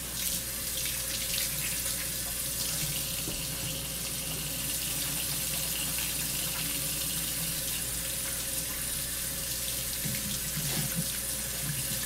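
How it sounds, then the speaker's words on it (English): A sink tap runs steadily for hand washing, a close, continuous hissing gush of water with faint splashing and no pauses. "Let me wash that gum off my hands."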